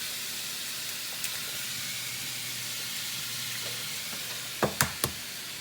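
Shrimp and quinoa stir-frying in a pan give a steady soft sizzle and hiss throughout, faint and even, ending with a few sharp knocks close by.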